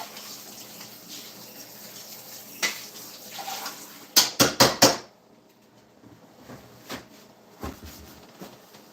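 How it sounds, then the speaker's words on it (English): A long-unused muffin tin being washed under a running tap at a home kitchen sink, with a steady water wash, a burst of clattering metal knocks midway, then a few scattered bumps, close and moderately loud. "I just got to wash my muffin tin."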